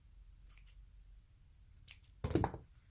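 Scissors snip through paper in a few quick, close cuts, two faint early snips followed by a louder, sharper cut, with quiet pauses between.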